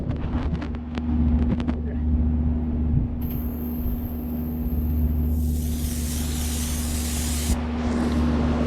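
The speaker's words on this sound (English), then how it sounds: "Let's clean these off with brake cleaner and my purpose-built wrap." Brake cleaner hisses from an aerosol can onto Jaguar independent rear suspension parts, a loud, close spray of several seconds over a steady background hum from a nearby air conditioner.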